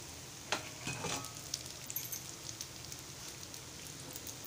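Ghavan (rice crepe) cooking on a hot pan as oil is spread over it with a piece of onion: a continuous close sizzle and crackle with a few sharper scraping strokes early on.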